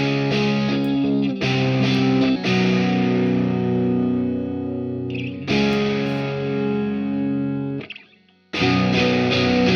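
A distorted lead electric guitar in a rock song mix plays loud, sustained held notes with sharp changes between phrases, with a brief drop in volume near the end.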